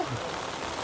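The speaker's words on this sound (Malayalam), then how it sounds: "മഴ കൂടി" Steady rain falling at a zoo in Thrissur, a soft, even patter on surfaces, fairly faint and continuous without other sounds.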